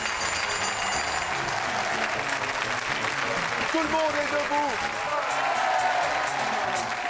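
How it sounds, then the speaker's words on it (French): A French TV game show studio audience applauds loudly and cheers throughout, with a host calling out over the dense clapping and scattered whistles. "on l'applaudit fort!"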